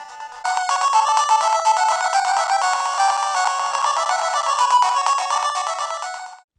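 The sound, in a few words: video game audio from Powkiddy A30 handheld's tiny speaker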